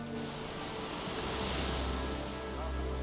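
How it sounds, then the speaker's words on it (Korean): Heavy surf pounds a beach with a steady, dense roar of breaking waves and wind, loud and continuous without pause. "거센 파도가 밀어닥치는 해변"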